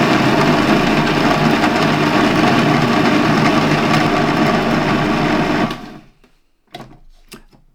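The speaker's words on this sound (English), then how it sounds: "I'm just going to put the bread into the food processor and turn it into breadcrumbs." A food processor grinds bread into breadcrumbs, a loud, dense, steady whirring roar close up for nearly six seconds, then it cuts out and a few light clicks and knocks follow.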